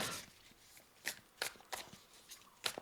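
Tarot cards being shuffled by hand, quiet and close, in a handful of short crisp riffling bursts separated by brief pauses.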